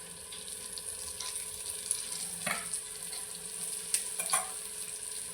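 Eggplant slices frying in a pan, a steady soft sizzle throughout with a few brief clinks and stirring scrapes, close and moderately quiet.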